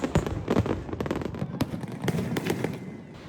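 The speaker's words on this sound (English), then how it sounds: "Now, I love a good fireworks display, and this one was truly spectacular." A fireworks display over modern buildings in Singapore: rapid, crackling bursts and sharp booms pile up densely, with a few louder single bangs standing out from the continuous popping.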